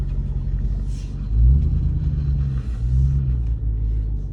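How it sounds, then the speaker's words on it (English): A single car passes along a road beside a stopped Ram TRX and Gen 3 Ford Raptor, a loud, steady low engine rumble that swells and holds for a few seconds with no talking over it. "There's just one car, dude."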